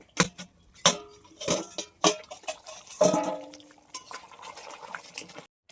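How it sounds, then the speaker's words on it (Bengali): A metal lid clinks and scrapes off a pot of simmering chicken roast in gravy, a series of sharp close metallic knocks and rattles over a soft bubbling boil, with no talking. "পাঁচ মিনিট হয়ে গেছে এখন ঢাকনাটা তুলে নেব"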